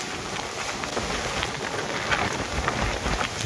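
Steady light rain patters and hisses evenly in Samar after Typhoon Uwan, a constant wash of soft drops with no voices.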